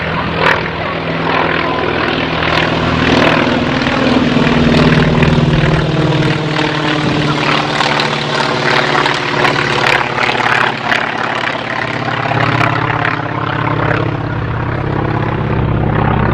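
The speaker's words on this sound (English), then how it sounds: "Trojan flyby." A North American T-28 Trojan trainer flies past at a transport festival, its radial propeller engine roaring loud and near, with a rough pulsing drone that swells and fades as it passes overhead.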